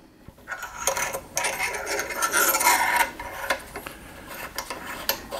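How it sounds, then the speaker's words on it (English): A metal barrel nut is threaded by hand onto an AR-15 upper receiver, giving close, quiet metallic rasping and scraping in short, uneven bursts. "you're going to take your barrel nut and you're going to run your barrel nut all the way up."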